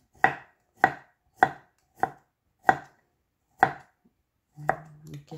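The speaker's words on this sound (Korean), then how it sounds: "밤을 썰어주고요." A knife slices chestnuts on a cutting board in six crisp, evenly spaced chops, close and clear, followed by a short scrape and rustle.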